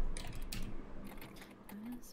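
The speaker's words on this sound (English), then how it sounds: "I can hear you typing." Quick clicking keystrokes on a computer keyboard, close and fairly loud in a short burst, with faint voice or music sounding in the background.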